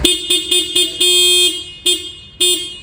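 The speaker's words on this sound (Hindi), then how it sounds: "हॉर्न भी आपको अच्छा खासा लाउड मिलता है यामाहा FZX के अंदर।" Horn of a Yamaha FZX 150 motorcycle honking loudly and close by: a quick series of short toots, one longer sustained blast, then two more short beeps, heard alone.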